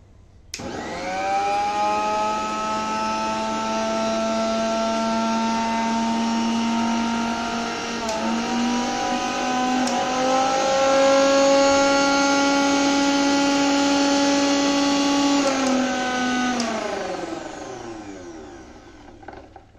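PLATINAGOLD mixer grinder motor running with no jar fitted: a loud, steady high-pitched whine that spins up, holds for several seconds with slight pitch shifts, then winds down at the end.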